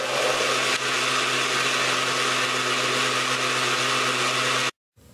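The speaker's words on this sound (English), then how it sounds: "Blend for 1 minute." Blender whirring steadily while mixing lecithin with distilled water, a loud continuous motor drone lasting nearly five seconds before cutting off abruptly, followed by a brief moment of quiet.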